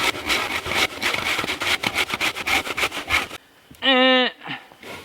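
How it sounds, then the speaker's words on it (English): A hand saw cuts back and forth through a piece of wood in steady, close strokes, with a voice talking over most of it, then a brief pause before a short squeaky scrape near the end. "I just simply cut a piece of wood like this and made it into a saw clamp."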